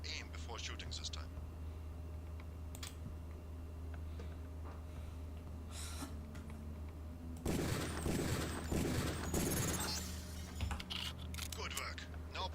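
Gunfire aimed at training targets in the game Deus Ex, with sparse shots at first, then a louder burst of rapid overlapping shots and clatter in the second half.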